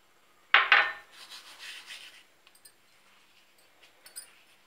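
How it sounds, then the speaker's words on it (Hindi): Dried fenugreek leaves (kasuri methi) crushed between the palms, giving a close, crisp rustling crunch that bursts loudly at first, then trails into softer, scattered crackles and small rubs. "और ये कसूरी मेथी, इसको भी हम ऐसे क्रश करके तब डालेंगे।"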